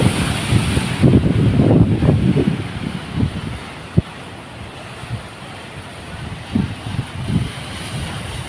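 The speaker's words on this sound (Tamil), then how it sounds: "அலை அடிக்கிறதே பயங்கரமாக இருக்குது. ஹெவியான வேவ்ஸாக இருக்குது பாருங்கள்." Heavy ocean waves crash on a shore at dawn, the sea turned brownish, in a steady loud roaring surge of breaking surf with repeated swells and wind buffeting the microphone, no voices.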